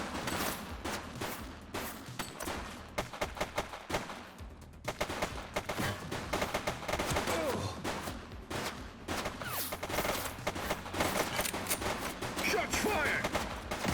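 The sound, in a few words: gunfire from police shootout in video game The Precinct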